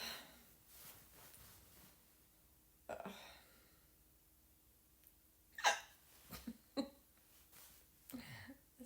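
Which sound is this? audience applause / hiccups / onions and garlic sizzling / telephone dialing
hiccups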